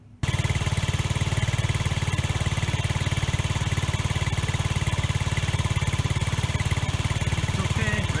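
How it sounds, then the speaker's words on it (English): A Honda Zoomer motor scooter's small engine starts and runs with a steady, rapid chugging pulse, close and loud, holding an even idle rather than revving. "took the bike outside, started it up"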